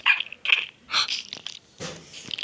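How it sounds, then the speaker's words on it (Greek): A dog in the video game Minecraft, a small puppy, gives a few short yelping barks in quick bursts, close and fairly loud with no talk over them. "Ωχ, σκυλί. Έχω κόκαλο. Είναι μικρό κουταβάκι ρε."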